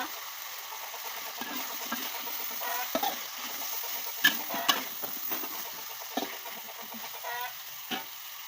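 Snow peas tossed in a wok over a wood fire for a Thai pork stir-fry, giving a steady sizzle with scraping stirs and a few sharp clacks of the spatula, close and moderately loud, with faint rooster clucks in the background.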